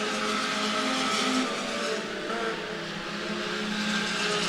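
Modified race cars roar around the Clay County Speedway dirt track in Iowa, a dense, loud wash of engines rising and falling as a pack passes, without talk.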